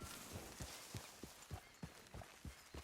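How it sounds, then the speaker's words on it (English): Horse hooves clip-clop in a steady galloping rhythm as a player rides a horse in Red Dead Redemption, faint repeated thuds over a soft background hiss. "So I'm going to ride my horse just over here"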